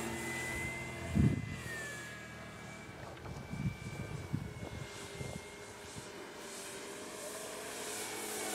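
Radio-controlled model airplane coming in to land at a fun-fly event, its propeller engine droning at a distance with a slowly shifting whine, plus a few nearby knocks and bumps.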